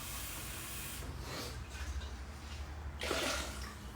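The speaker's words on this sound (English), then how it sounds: "I've already added probably about 50 grams of water, so let's put another 200 in." Water poured into a cooking pot, a soft hissing splash in two bursts, the second stronger near the end, over a low steady background hum.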